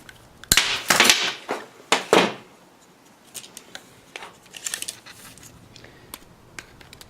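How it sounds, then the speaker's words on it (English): Wire cutters snip the end of a wire on a homemade light-bulb conductivity tester, giving a few sharp, close clicks in quick succession followed by lighter handling taps. "So I'm going to trim it with wire cutters."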